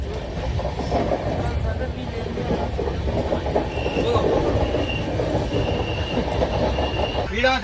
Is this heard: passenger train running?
yes